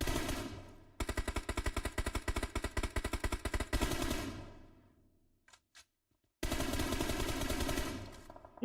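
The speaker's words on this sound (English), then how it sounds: "And Joy goes right through gunfire" Rapid automatic gunfire in an esports battle royale match, long sustained bursts that stop, leave a few faint scattered shots and quiet, then resume in another loud sustained burst.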